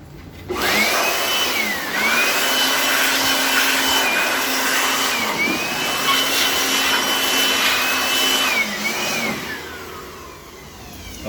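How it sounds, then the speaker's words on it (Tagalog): An electric blower blowing dust out of an air conditioner's indoor unit whirs loudly and steadily for several seconds, its pitch rising and dipping slightly, then eases off near the end. "So, ginamitan din natin ng blower."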